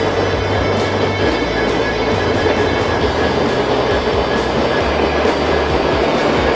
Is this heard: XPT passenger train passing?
yes